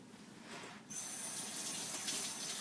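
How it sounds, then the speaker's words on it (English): A kitchen tap turned on for hand washing after cooking molasses French toast, water suddenly gushing into a sink and running steadily and close. "Wash my hands off"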